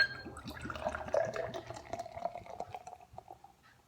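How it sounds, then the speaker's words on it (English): India pale ale pours aggressively and steadily into a glass with bubbly, gurgling texture, strongest early and gradually tapering off toward the end. "Let's give it an aggressive pour like I always do"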